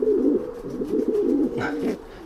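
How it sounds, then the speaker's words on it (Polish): Racing pigeons of Jansen lines in a loft give low, throaty rolling coos, several overlapping phrases close by, steady and warbling throughout with no talk. "To są gołębie, z których jestem bardzo dumny."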